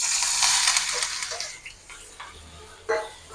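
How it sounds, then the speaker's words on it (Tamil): Mustard seeds and urad dal crackle and sizzle in hot oil as a tempering for an okra curry, a bright hiss that fades into scattered pops and spits, heard close up with no talk. "ஸோ கடுகு, உளுத்தம்பருப்பு தாளிச்சிக்கலாம் வெண்டைக்காய் கறிக்கு."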